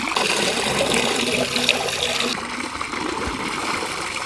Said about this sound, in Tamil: தண்ணி நிறையா ஊற்றுது.